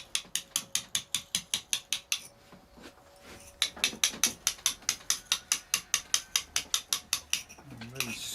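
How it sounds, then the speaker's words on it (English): A Storeton stone carving being worked, heard as a close, rapid, evenly spaced series of sharp scraping rasps. The strokes pause briefly partway through and then resume at the same steady rhythm. "Scraping a lot of stone off at the moment."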